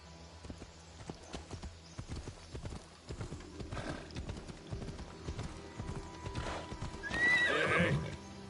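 In Assassin's Creed Odyssey, a horse's hooves clip-clop in a steady trotting rhythm, building into a galloping patter, followed by a loud whinny near the end, close and clear.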